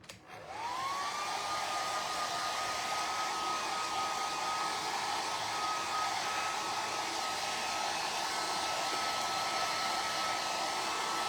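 A heat dryer runs steadily to dry freshly applied mason jar and sunflower transfers, a loud, close, continuous whir with a steady tone that starts and then holds unchanged.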